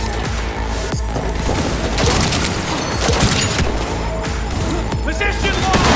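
Gunfire in Cyberpunk 2077 combat, a dense loud barrage of shots and impacts crackling continuously, mixed with voices and battle noise.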